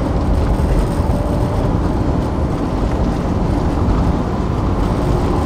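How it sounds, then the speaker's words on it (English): A 1970 Mercedes-Benz 280 SE drives along, its steady low engine and road rumble filling the cabin at an even, loud level without pause and with no voices. "It's really good to be behind the wheel of this car again."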